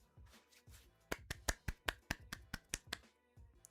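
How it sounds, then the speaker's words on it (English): A short run of sharp, light claps, about a dozen evenly spaced after a couple of softer ones, close and fairly quiet, in the manner of a polite golf clap. "Golf clap."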